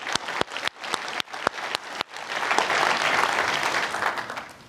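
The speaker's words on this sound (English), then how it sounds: "Give these folks a round of applause for their work." Audience applause for clean tech award honorees at an innovation awards ceremony, starting as a few separate sharp claps and swelling into sustained, dense clapping from a crowd that holds steady before tapering slightly.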